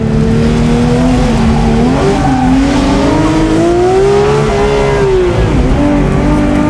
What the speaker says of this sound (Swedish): Hör du hur den låter, motorn?